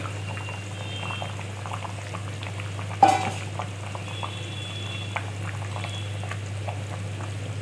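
A Bengali fish curry with bhetki, cauliflower and bori simmers in a pan, a low bubbling sizzle with one sharp clatter partway through, no speech.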